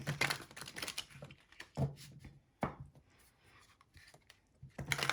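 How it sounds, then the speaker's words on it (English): Brisk bursts of card shuffling, crisp riffling clatter close by with short pauses between rounds, fairly quiet overall. "Going to give it a good shuffle"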